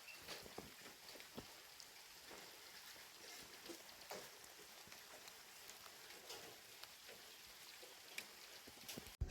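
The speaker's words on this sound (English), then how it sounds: "Rain is starting up." Light rain falls in a food forest garden as a soft, quiet, continuous patter with scattered sharper drops, and no voices.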